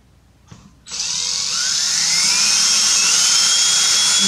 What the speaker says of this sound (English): I pick a point and then I just drill it in.